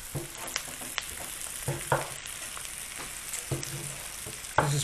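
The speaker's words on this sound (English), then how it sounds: "let's fry that off" Pork cheeks fry in a pan with a constant close sizzle, dotted by scattered knocks and scrapes as the pieces are stirred and moved around.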